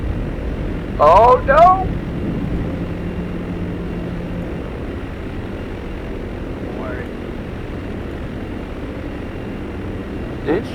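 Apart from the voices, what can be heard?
German bomber aircraft flying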